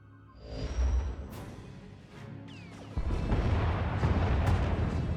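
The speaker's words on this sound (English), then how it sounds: "Enemy is firing. Turbo lasers, missiles, and what looks like transport pods." Space battle in Star Wars: The Old Republic as a Thranta-class warship opens fire with turbolasers and missiles: rumbling booms and whooshing energy blasts build into a loud, dense barrage of sustained explosive fire.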